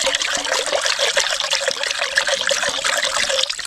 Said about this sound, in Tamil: தண்ணி ஊற்றிக்கிறோம் தண்ணி ஊற்றிக்கிறோம்